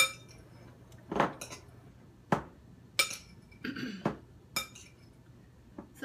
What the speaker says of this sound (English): I just mix everything in that I chopped up